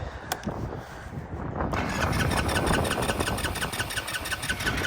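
SYM Orbit 150 scooter engine failing to start with the kill switch pressed: a steady, close mechanical whir and churn that runs continuously without catching into an idle, with no talk.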